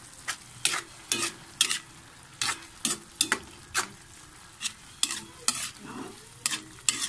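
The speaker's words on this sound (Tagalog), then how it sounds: "haluin natin" A salted food mixture being stirred in a pan, a soft sizzle broken by a dozen or so distinct spatula scrapes in an uneven rhythm, close by, no talking.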